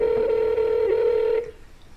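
A telephone on speakerphone plays a steady dialing tone that is loud and sustained for about a second and a half, then cuts off into quiet room noise.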